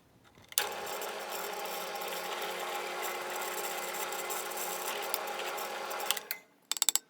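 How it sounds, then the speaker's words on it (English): Drill press boring out a punched rivet on a 2000–06 Nissan rear window regulator slide, a steady loud whirring grind that starts abruptly, runs about five seconds, then winds down with a few small clicks. "let's go over to the drill press and"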